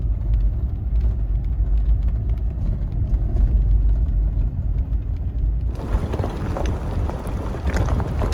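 An overland vehicle drives along a Colorado road, giving a steady low rumble with wind buffeting. Partway through, the sound abruptly turns brighter and louder, as though a window opened, and no one talks.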